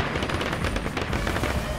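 Weapon fire in the spaceship combat game FTL: Faster Than Light, a dense, loud burst of rapid shots packed tightly together and filling the short stretch without a break.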